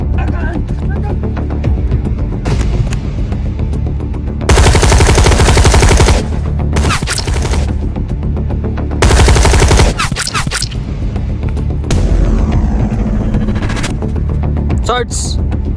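Loud, close automatic gunfire in a Bisaya action film, arriving in three long rattling bursts with steady noise between them.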